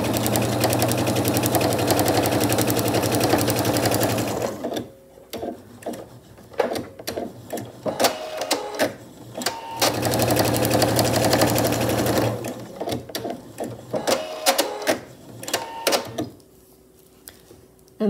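A sewing machine quilts fabric for a skillet handle potholder, its rapid needle chatter running in loud bursts with brief pauses and stop-start stitching between, close and with no talk.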